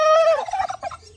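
A turkey gives a single loud, close gobble, a rising harmonic call breaking into a rapid warbling rattle, with no talk over it.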